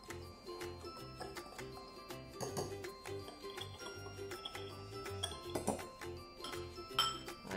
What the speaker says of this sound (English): Now I'm going to stir each mixture.